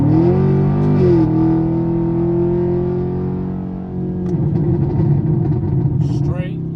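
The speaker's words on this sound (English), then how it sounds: "Now we're going to get that good takeoff video here from the cabin" A Chevrolet Camaro SS on cheap performance tires pulls away hard from a standstill, heard from inside the cabin: a loud, rising engine drone with clear harmonics that steadies, then turns rougher and busier, with a faint voice over it.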